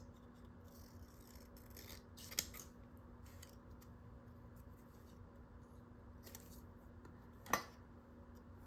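Quiet snips of scissors cutting paper, a few soft scattered cuts with two sharper clicks standing out against a faint hum.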